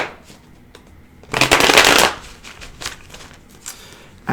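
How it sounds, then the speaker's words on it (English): A deck of tarot cards riffled in one loud, dense burst of rapid flutter lasting about a second, followed by faint soft card handling and light taps. "Give it 2 more shuffles"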